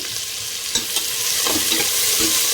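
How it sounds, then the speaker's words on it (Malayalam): Onions go into a hot pan of oil for biryani and set off a loud, steady sizzle and frying hiss, with a few stirring knocks near the start. The sound is close, and no one speaks. "പുറകെ ഉള്ളി കൊടുക്കണം."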